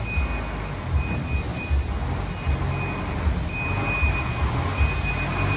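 A truck works nearby with a steady high reversing beep over a low rumbling engine, constant and fairly loud throughout.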